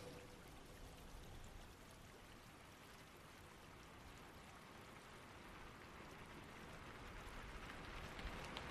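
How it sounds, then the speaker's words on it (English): Heavy rain pours down in a sudden, relentless downpour, a dense steady hiss of drops on surfaces that holds without pause and swells slightly toward the end, heard faintly. "So I'm not surprised when the sudden downpour appears."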